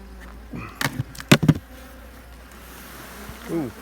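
Honey bees buzzing close by at an open hive in short loud bursts that flare and fade, over a quiet hum of background insect activity.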